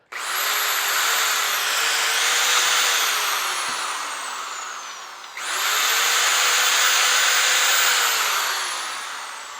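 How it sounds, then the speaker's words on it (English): A power drill whines steadily at high pitch for several seconds, briefly stops, then starts again and runs loud and close, drilling inside golf iron heads to roughen them. "First off, we're just gonna drill."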